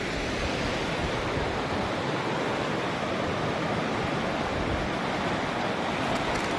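The Koksu river, a large fast-flowing river, rushes steadily as a loud, dense roar of water, close and unbroken throughout with no other sounds.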